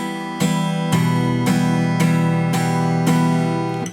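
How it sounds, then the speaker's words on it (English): Acoustic guitar strummed with a smooth, gliding attack that slices over the strings, seven full, ringing chords in a steady even rhythm, close and clear with no talking. "good attack, where we're getting more of the note"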